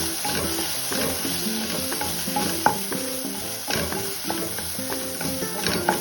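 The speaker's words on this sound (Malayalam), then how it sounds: "ഇനി അതിലേക്ക് കുറച്ച് ടൊമാറ്റോ സോസും സോയാ സോസും ചേർത്ത് വീണ്ടും നന്നായി മിക്സ് ചെയ്യുക" Fried rice with tomato sauce and soy sauce is stirred in a hot pan, a steady close sizzle broken by scraping, clinking spatula strokes at an uneven rhythm, with no talk.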